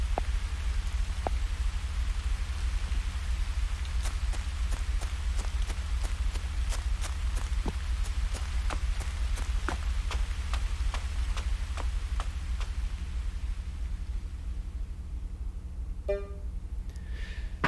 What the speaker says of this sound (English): I love the rain in the background of that scene